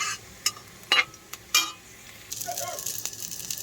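Rice and carrots frying in a pan, a few sharp spatula scrapes and knocks followed by a soft steady sizzle, close by, with faint speech in the background.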